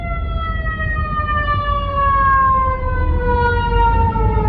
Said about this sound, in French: Il y a beaucoup des ambulances ici.